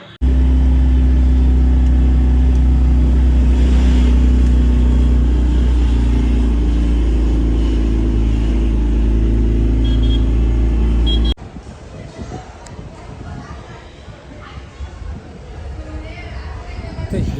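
A loud, steady engine of a private shared car running from Khopoli bus stand toward Lonavala rumbles close by for several seconds, then cuts abruptly to quieter, rustling background noise.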